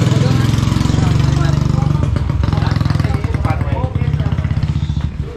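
A motorcycle taxi (ojek) engine idling and running at a mountain hiking basecamp, a loud close rapid chugging putter that roughens and rises toward the end, with people talking over it.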